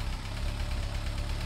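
A 22 kW 380/220 V generator engine runs nearby with a steady, throbbing idle and a faint knocking rhythm, heard alone at moderate volume.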